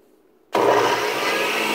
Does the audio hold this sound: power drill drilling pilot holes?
no